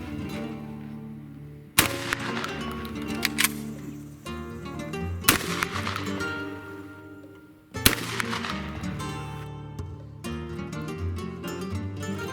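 Three loud shotgun blasts from a reloaded shotshell, spaced several seconds apart, each a sharp crack with a decaying tail, over steady background music.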